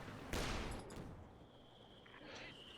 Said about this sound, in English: Oh, mortar coming in on the Obers.